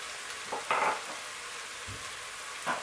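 Garlic hits hot oil in a pan for njangsa sauce, giving a steady close sizzle with a few brief louder crackling bursts and stirring scrapes as it cooks.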